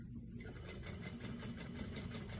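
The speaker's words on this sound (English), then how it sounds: "you're going to just edge stitch those to keep them in place for when you add your waistband" A sewing machine edge-stitches the pleats on a pair of pants, running in a steady rapid mechanical whir with an even stitching pulse throughout.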